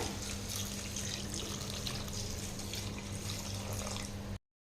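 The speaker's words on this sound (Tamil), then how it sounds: "இப்போ ரெண்டு டம்ளர் தண்ணி சேர்த்திக்கலாங்க" Water poured into a pan of sautéed tomatoes and vegetables for sambar, a steady close splashing pour that runs without a break and then stops abruptly.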